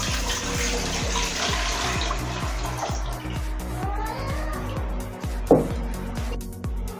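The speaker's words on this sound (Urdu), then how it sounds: "دیگچی لی ہے، اس میں ہم 1 لیٹر پانی ڈالیں گے" Water, one measured litre, is poured into a cooking pot while making almond sharbat, giving a steady splashing gush under a low rhythmic background hum, with a brief clunk near the end.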